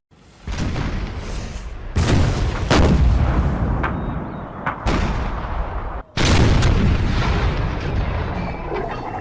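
Massed Civil War artillery in a Total War cinematic of the First Battle of Bull Run booms repeatedly, with several heavy cannon blasts at irregular intervals rolling over continuous battle rumble.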